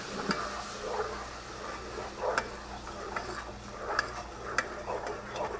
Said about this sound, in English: And then just stir it, let it bubble.